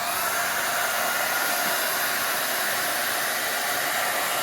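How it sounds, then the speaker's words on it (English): A hairdryer runs steadily and loudly close by, its constant rushing blow unbroken throughout, used to heat helitape on a mountain bike frame. "So again, get your hairdryer,"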